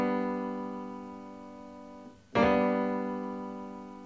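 Piano plays chords, a sustained chord fading, then a quick grace-note slide into a fresh, bright chord that rings out and decays, close and clear.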